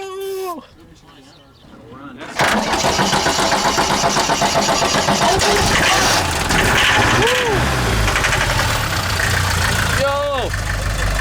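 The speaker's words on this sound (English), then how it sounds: "This is the first start of this van in like 50 years." An old van engine starts for the first time in about 50 years: a brief starter crank, then a loud rough catch into a steady roaring idle, close, with excited voices shouting over it.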